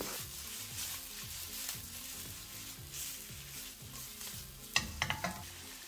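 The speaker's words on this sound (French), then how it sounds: "On rajoute notre volaille. On fait revenir le tout." Steady sizzling from a hot wok as poultry is sautéed, stirred and tossed, with scraping utensil strokes and a few sharp clinks near the end.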